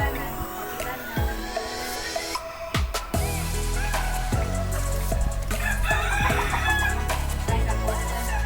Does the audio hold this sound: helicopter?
no